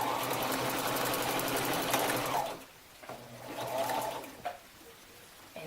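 A sewing machine stitches elastic onto a shirt in a steady fast whir for a couple of seconds, then pauses and starts again in a shorter, softer burst.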